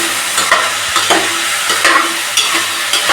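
Chopped vegetables including beetroot sautéed in a pan for veg biryani, a loud constant sizzle broken by repeated rhythmic scraping strokes of a spoon against the pan.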